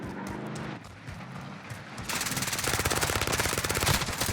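Gunfire rings out in a Call of Duty Warzone gunfight, with scattered shots early on followed by a loud, sustained burst of rapid automatic fire.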